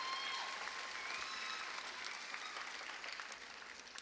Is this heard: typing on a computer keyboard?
no